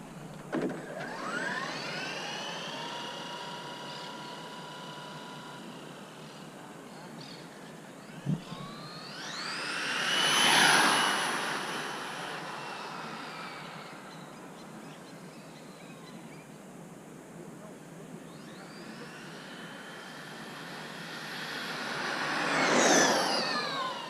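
A Traxxas Drag Slash RC car does drag runs on a no-prep surface, its electric motor whining upward in pitch as it swells loud on two separate passes, then fades into outdoor background.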